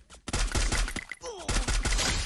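Rapid gunfire in the mobile battle royale game Free Fire rattles out in two loud, close bursts of quick shots split by a brief gap.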